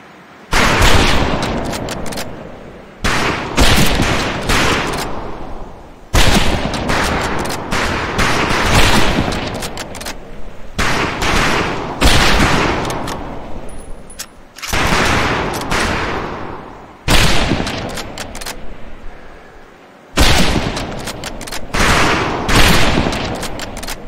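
Rifle volleys crack out on a firing range in Medal of Honor Pacific Assault, loud rapid bursts of gunfire repeating in several separate rounds with brief pauses between them.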